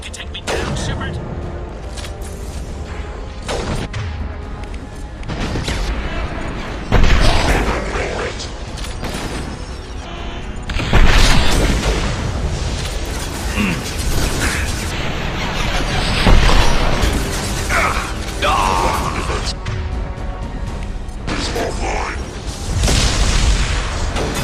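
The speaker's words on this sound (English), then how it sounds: "Explosion." Explosions from heavy mechs during combat in the video game Mass Effect 2, booming blasts and bursts of gunfire recurring loudly over a dense, continuous battle din with no talking.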